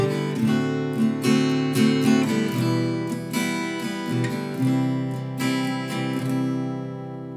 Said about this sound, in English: the chord sequence we're going to play now is going to be a 1, a 5, which is going to be the 7 chord